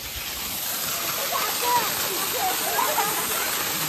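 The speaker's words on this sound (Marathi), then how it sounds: "मॅडम चाललंय आता धबधब्याखाली" A waterfall roars in a steady, broadband rush of falling water, heard up close and alone, with faint high bird-like chirps in the middle.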